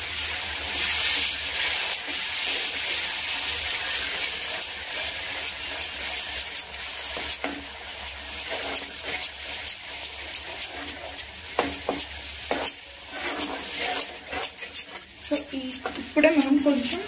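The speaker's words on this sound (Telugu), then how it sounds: "ఇందులో మసాలా వేసేస్తాం." Masala frying in hot oil while being stirred for a prawn curry, giving a steady close sizzle with scraping stir strokes, and a voice talks over part of it.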